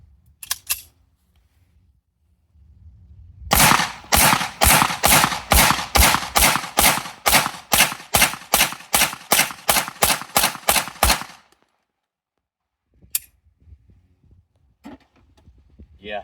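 A Smith & Wesson M&P pistol fires about two dozen sharp, loud shots in a fast, evenly spaced string, close by, followed by silence and a few faint handling clicks.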